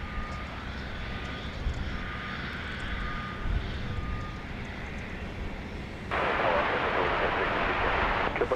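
A Cessna Citation Longitude business jet arrives at Dallas Love Field, its engine roar steady and moderately distant before swelling louder and brighter near the end.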